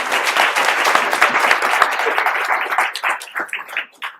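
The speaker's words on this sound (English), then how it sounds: "Can we give them another round of applause, please?" An audience at a small talk event breaks into loud, dense applause that holds steady and then thins into a few scattered claps as it fades.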